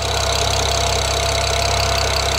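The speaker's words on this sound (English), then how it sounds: "But the engine sounds really smooth." BMW N54 twin-turbo straight-six idling in an E92 335i after an engine swap, a steady, smooth low hum with even, continuous rumble and no talk.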